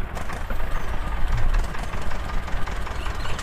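Tractor engine in the Indian Tractor Simulator game, a steady low rumbling drone with a fluttering, uneven throb.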